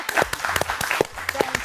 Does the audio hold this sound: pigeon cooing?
no